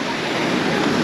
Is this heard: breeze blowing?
yes